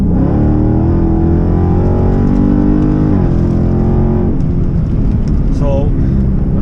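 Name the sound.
Dodge Scat Pack car accelerating with mid-muffler delete exhaust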